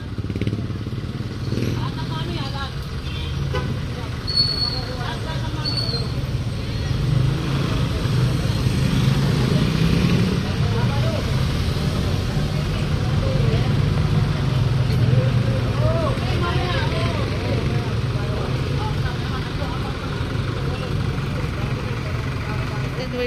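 Motorcycles and other street traffic pass along 7th Avenue during a clearing operation, a steady engine drone with passing revs rising and falling throughout, people talking over it.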